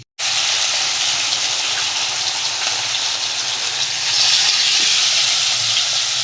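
Hilsa fish pieces go one by one into hot oil in a well-heated wok, giving a loud, steady sizzle and hiss that starts abruptly and swells slightly toward the end, with no talking.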